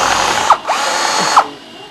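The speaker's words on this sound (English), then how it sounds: "It's just as easy to drill the whole thing in reverse." A power drill whirs loudly in short bursts, running in reverse, its motor pitch dipping and surging twice as it bites into a boat's hard gel coat.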